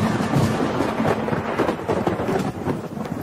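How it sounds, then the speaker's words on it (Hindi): Heavy rain pours steadily with rumbling thunder rolling underneath, a dense, continuous wash of storm noise that stays loud and close throughout, with no voices. "बाहर बहुत तेज बारिश हो रही थी।"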